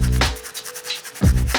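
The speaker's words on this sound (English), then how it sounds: "We use the hard brush to get into the grooves because that is where the dirt and the dust hides." A hard-bristle brush scrubs the grooved outsoles of premium slides in a few rough, rasping strokes, close and fairly loud, with quieter gaps between them.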